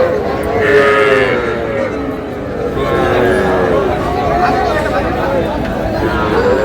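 Busy Aftabganj cattle haat in Dinajpur, with cattle lowing among a steady crowd din and constant nearby human voices, several drawn-out moos rising over the chatter.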